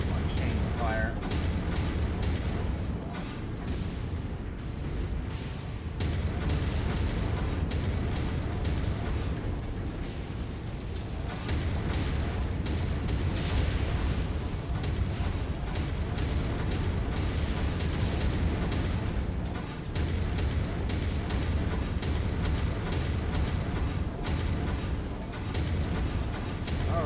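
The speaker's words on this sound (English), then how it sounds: "Use the auto cannons here. Actually, put them on chain fire." Autocannons in Mechwarrior 5 fire on chain fire, a dense continuous roar of rapid shots and explosions filling the whole stretch at steady high loudness.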